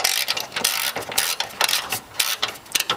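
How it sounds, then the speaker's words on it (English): A ratchet loosens the 12 mm top bolt of a hood mount on a 4x4, clicking in quick close bursts of rapid pawl ticks separated by short pauses, with no talk. "The second thing we do is remove the top bolt of your hood mount."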